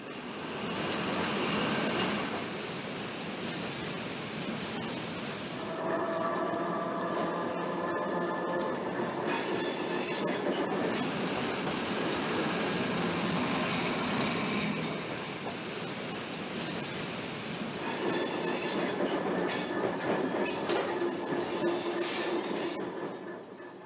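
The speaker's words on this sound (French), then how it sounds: "le Bruxelles-Tervuren roule à côté des voies de la SNCB" A 1947 Brussels–Tervuren electric train runs alongside the main-line tracks, its wheels clattering over rail joints with bursts of high metallic squeal, steady and fairly close for the full stretch.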